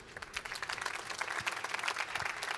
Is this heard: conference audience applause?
yes